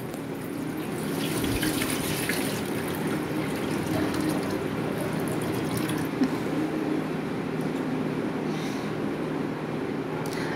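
Water draining off washed clam meat (kakka) being cleaned, a steady close splashing and trickling pour with dripping that runs unbroken, with no one talking.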